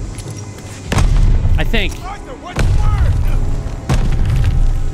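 Grenade blasts in the Call of Duty Vanguard campaign: three loud booming bursts spaced about a second or more apart, each with a heavy low rumble, while someone talks over the game.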